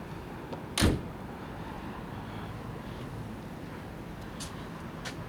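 A car door shuts once with a single solid thump near the start, followed by steady outdoor wind noise and a couple of faint clicks.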